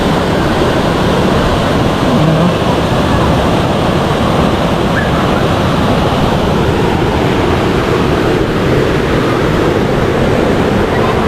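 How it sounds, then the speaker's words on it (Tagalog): Hagdan-Hagdan Falls in Mauban, Quezon, a tiered waterfall giving a steady, loud roar of cascading water heard up close throughout, with some wind buffeting the microphone. "Ito na po yung Hagdan Hagdan Falls."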